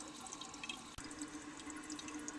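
Water from a Mansfield 09 fill valve runs into the tank of a 1933 Standard Modernus toilet, a continuous close hiss and trickle with a sharp click near the midpoint.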